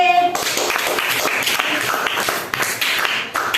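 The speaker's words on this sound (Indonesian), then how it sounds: "tepuk tangan untuk kelompok D" A classroom of students applauds group D, a dense burst of many hands clapping together, loud and close, with a voice briefly audible at the start.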